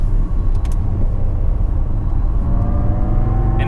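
A Jaguar I-PACE electric car driven on the Portimao race circuit, a steady loud whir and road rumble from inside the cabin with no voices.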